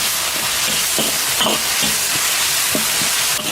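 Garlic, ginger, dried chilies, Sichuan peppercorns, bean paste and hotpot base stir-fry in hot oil in a wok, giving a steady close sizzle broken by a few scraping stirs, with no talking.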